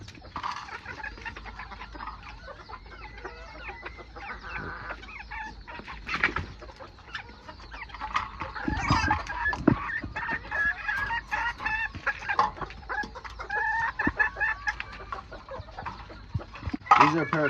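A pair of quail and a blue hen pecking at soaked mixed feed in a barn, with clucks, soft chirps and scratchy pecking, plus faint background voices.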